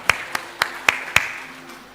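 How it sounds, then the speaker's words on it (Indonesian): Five sharp, separate hand claps ring out in a church hall at a slow, even pace, crisp and fairly close with a slight room echo, fading to quiet afterward. "Kasih tepuk tangan"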